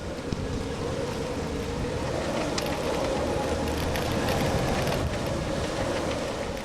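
Strong wind roars steadily around a moored sailboat with its jib up, a dense, continuous rushing with microphone buffeting and no voices.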